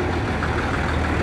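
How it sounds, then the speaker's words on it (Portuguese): A heavy Detroit diesel truck engine idles and rumbles steadily at close range, a dense low-pitched drone with no pauses. "Motor Detroit, parece, pelo barulho, hein? Barulhão parece motor Detroit."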